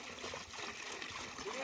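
Water splashing and trickling continuously, fairly close, with a steady wet spatter and no voices.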